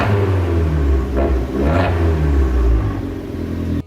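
Fiat 500 Abarth engine and exhaust rumbling loudly from the rear, heard from inside the car as the revs rise and fall in steady swells before cutting off abruptly.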